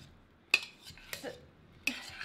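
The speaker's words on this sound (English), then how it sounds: "Stir until your bacon grease melts into your potatoes and your potatoes absorb that luscious, yummy goodness." A spoon stirring hot potatoes with melted bacon grease in a bowl: three sharp clinks and scrapes against the dish with soft, quiet mixing in between, close and fairly faint.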